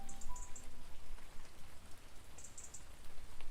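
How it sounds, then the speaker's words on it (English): Rain falls on a mountain among chestnut trees as a steady soft patter and hiss, fairly faint and close, with no voices. "On the mountain of Usurana, it is raining a lot."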